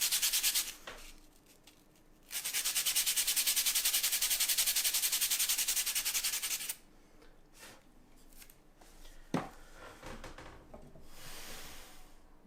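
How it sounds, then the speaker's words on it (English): A blunt stick of charcoal is sharpened with a steady, close rasping scrape, one long stretch and a few shorter strokes, loud against an otherwise quiet room. "Charcoal's gone blunt again, so I'm just going to sharpen that."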